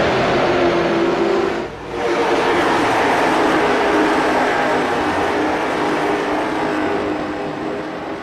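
Late model race cars circle a racetrack in a loud, continuous engine roar with a brief dip, then the dense droning wash resumes and fades slightly toward the end.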